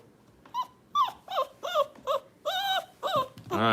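A young puppy whimpers and whines in a series of about eight short, high, close yelps and cries with brief pauses between them, ending in a longer rougher whine.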